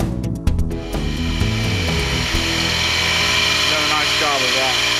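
A Promethean rescue drill machine, a search-and-rescue breaching tool, runs with a continuous loud high-pitched motor whine and sweeping, shifting tones throughout.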